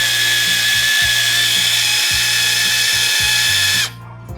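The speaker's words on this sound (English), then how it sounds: "sometimes this step requires the help of a drill just to get that screw all the way through" A power drill drives a screw through an H-Bar standing support on a Hobie Pro Angler kayak, a loud close whine with repeated stuttering pulses under load, then stopping abruptly near the end.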